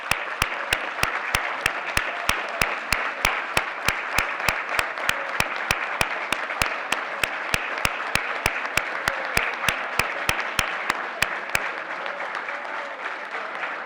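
An audience applauds teachers at an awards ceremony in Cayman with steady, sustained clapping that holds evenly for about twelve seconds before tapering off at the end.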